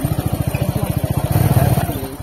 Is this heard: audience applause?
no